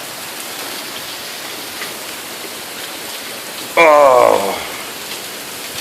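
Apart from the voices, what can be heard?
heavy rain pouring down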